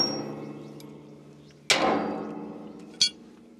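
Two separate hammer strikes on bolts of a broken plastic mulch lifter on a farm, a loud metallic clang with a ringing decay, then a shorter sharper hit about a second later.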